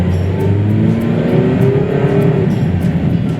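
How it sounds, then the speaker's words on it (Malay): A 2020 Perodua Bezza's engine revs under acceleration, a loud, steady drone with a rising tone heard from inside the car. "Kita boleh katakan kereta ni bila kita tekan pun enjin dia sedikit mengaum"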